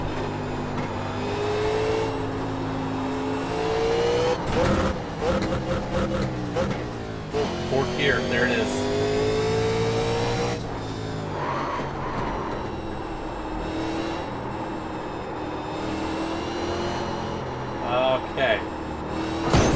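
A 1987 Cup race car lapping a track, its engine revving hard and dropping back through gear changes, rising and falling loudly and close, with a voice talking over it.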